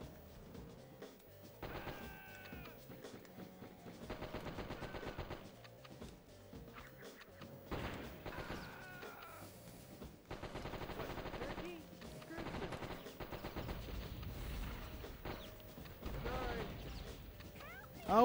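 MP5 submachine gun fire in the Die Hard Trilogy video game, rapid bursts of automatic shots repeating across the scene amid game music and effects, with occasional distant screams.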